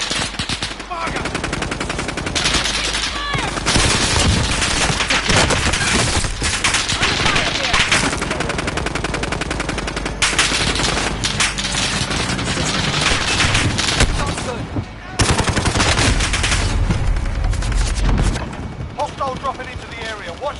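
Sustained automatic gunfire and explosions in Call of Duty: Warzone (Cold War), loud rapid bursts filling nearly the whole stretch with brief pauses, booms mixed in and occasional voices over the din.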